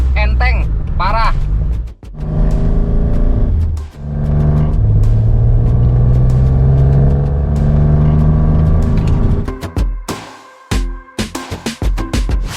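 A 1985 Suzuki SA310 two-door with a 1000 cc engine drives along, its engine droning and revving steadily up close with short dips between gears, while people talk inside the car.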